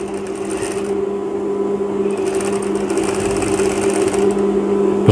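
Sewing machine stitching the hand opening of a pocket on a children's sports shirt, running loud and close as a fast, continuous mechanical whir with a brief pause in the stitching partway through.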